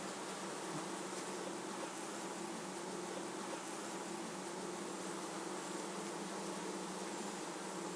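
Honey bees swarm over the wax comb of a frame lifted from a Swiss-style hive in summer, producing a dense, steady close-up buzz with no other sound.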